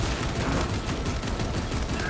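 Servo gun firing in Warhammer 40,000: Space Marine 2, a dense, continuous rattle of rapid automatic fire that keeps up steadily and loudly from start to finish.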